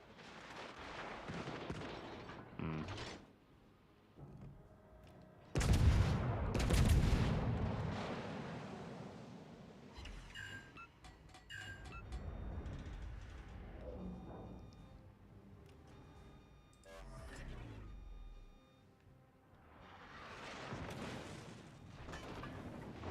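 Enemy warships fire their guns in the naval combat game World of Warships: Legends, heavy booming salvos landing at irregular intervals with rumbling tails and a few sharper cracks in between.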